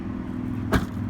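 A 2017 BMW 340i sedan's trunk lid shuts with a single solid thump over a low steady hum of background noise, fairly close and alone without talk.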